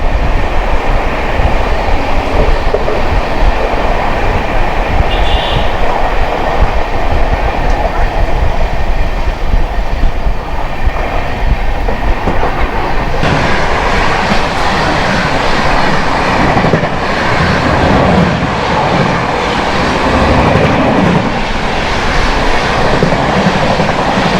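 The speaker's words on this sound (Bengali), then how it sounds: "দুখানা ট্রেন পরপর থ্রু লাইন দিয়ে পাস করে গেল" Two trains thunder past one after another on the through line at Bagnan station in India, a loud, continuous roar and rattle heard up close from a stationary train.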